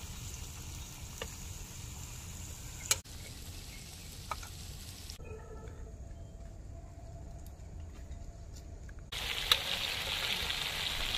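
Croaker fish pieces fry in hot oil in a pan, Mangalore style, giving a steady soft sizzle and crackle close by. The sound briefly thins out, then turns louder and brighter near the end.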